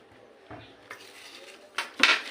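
Mango pickle is mixed with sugar, salt and vinegar in a bowl, with quiet scrapes and a few sharp clinks of a utensil against the dish that grow louder near the end.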